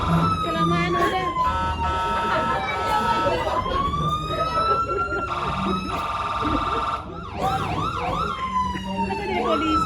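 An ambulance siren wails continuously with rising and falling tones, switching between slow wails and rapid yelps, loud and close, with voices talking underneath.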